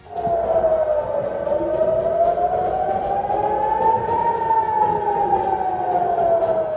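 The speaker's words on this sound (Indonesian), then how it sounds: "terlihat jelas sirine keamanan Iron Dome meraung-raung" A loud wailing Iron Dome air-raid siren in Israel rises and falls slowly in pitch, sustained without pause throughout.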